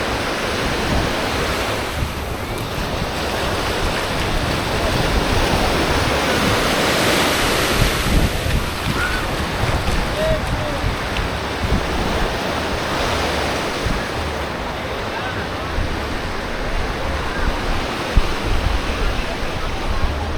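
Surf at Canasvieiras beach in Florianópolis washes in as a continuous, broad roar of breaking waves. It holds steady and fairly loud for the whole stretch, with some wind buffeting the microphone.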